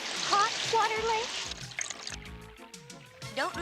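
Water from an elephant-like creature's trunk sprays over cartoon characters to wash them off beside a lake, a steady rushing hiss running under animated voices talking throughout.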